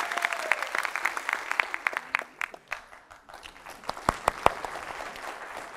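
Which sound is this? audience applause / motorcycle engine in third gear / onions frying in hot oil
audience applause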